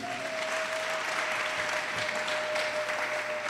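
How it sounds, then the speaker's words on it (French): A church congregation claps steadily for the word of God during a Pentecost service, a dense sustained applause at moderate level, with a faint held tone running beneath it. "Acclamons la parole de Dieu"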